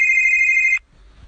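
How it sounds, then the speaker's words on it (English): A phone rings in a video game with a bright, steady electronic tone that stops abruptly partway through, followed by near silence. "I'll answer the phone, because last time I didn't."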